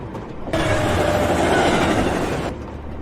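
Moving train in an animated series, carried on as a steady rumbling clatter of wheels and carriages that swells in abruptly, holds loud and close for about two seconds, then drops away.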